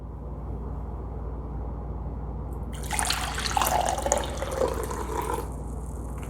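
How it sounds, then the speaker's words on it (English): Water pours into a measuring cup while making soap, a soft splashing trickle that starts partway through and runs for a few seconds over a low steady background hum. "So I'm gonna measure off my water, and I need 3/4 cup."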